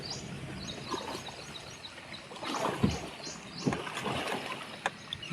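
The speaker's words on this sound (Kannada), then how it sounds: "ನೀರು ಸೌಂಡೆಲ್ಲ ಹೆಂಗೆ ಕೇಳಿಸ್ತಾ ಇದೆ ನೋಡಿ." Water flows steadily through a stream at a scenic swimming spot, a continuous close rush broken by a few louder splashing surges, with no voices.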